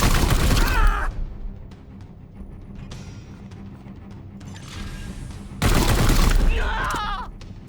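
Two bursts of rapid gunfire from the video game Chaos Gate: Daemonhunters, aimed at an enemy, loud and close, one at the start and one near the end, separated by a low, quieter stretch of game ambience.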